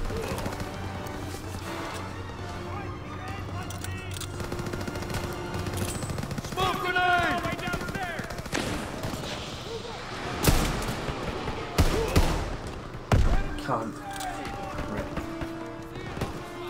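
Turret gunfire in Call of Duty WWII: rapid machine-gun bursts and heavy shots from a mounted gun, loudest in clustered volleys late on, mixed with game noise and someone talking over it.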